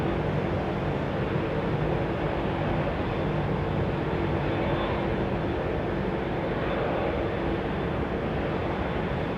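Steady, dense jet roar from an Airbus A321 moving out at London Heathrow, loud and unbroken at an even level, with no voices over it.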